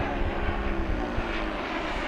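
An FMS 1700mm Corsair V3 RC warbird on a new propeller makes a fast pass at full power, its electric motor and prop giving a loud, steady, close-in roar for the whole stretch.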